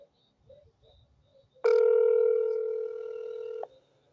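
A telephone call is placed to leave a voicemail: faint tones first, then a loud steady ringing tone held for about two seconds before it cuts off.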